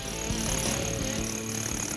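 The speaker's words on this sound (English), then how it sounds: "So my apprentice is gonna go outside right now and start drilling the process of the hole" A heavy drill with a 6-inch bit bores a hole through a concrete wall outside a house on a hillside, a loud, steady grinding roar with rhythmic hammering pulses running throughout.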